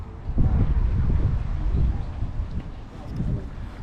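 A cool wind blows steadily at an outdoor sea bass fishing pond, rumbling against the microphone in gusts with a low buffeting roar, and faint talk sits underneath.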